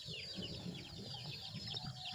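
Chickens clucking softly in the background, scattered short calls over a low steady ambience, fairly faint and distant.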